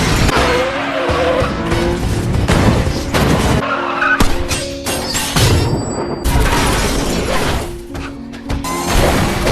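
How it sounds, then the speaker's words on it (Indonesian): A film car chase with three cars pursuing a fleeing couple in a stolen neighbor's car, loud and continuous with engines, screeching skidding tires and crash-like impacts, the action running throughout without pause. "mereka kemudian pergi melarikan diri sambil dikejar oleh 3 mobil yang terus memburu mereka"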